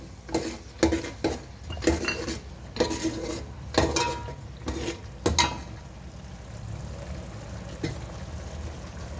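Dry coconut powder with turmeric is roasted and stirred in a pan. A close utensil scrapes and clanks against the pan in irregular strokes, busier at first and quieter toward the end, with no talking.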